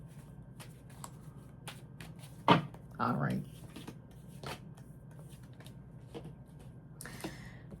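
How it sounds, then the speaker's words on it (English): Tarot cards shuffled close by, giving faint repeated taps and rustles with a couple of louder riffles in the middle, while a voice speaks briefly. "A couple more shuffles for Sagittarius here."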